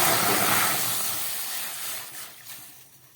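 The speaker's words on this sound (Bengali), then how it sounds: "হালকা করে মুগ ডালটা ভাজা হয়ে গেছে এবার আমি এর মধ্যে জল দিয়ে" Water poured into a pan of lightly fried mung dal gives a loud broad hiss of sizzling steam that gradually fades and thins out over a few seconds.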